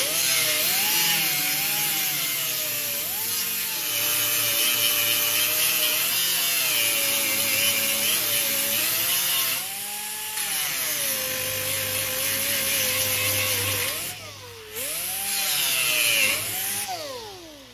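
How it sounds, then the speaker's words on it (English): A power tool grinds continuously with a steady whine that rises and dips in pitch as it grinds bolt heads off on a Model A hot rod, pausing briefly near the end. "I'm just going to grind the head of them off."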